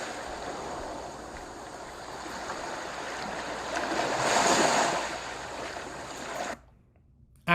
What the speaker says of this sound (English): The static becomes waves, a little louder than before, and progressively louder.